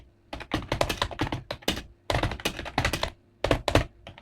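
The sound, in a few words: typing on a computer keyboard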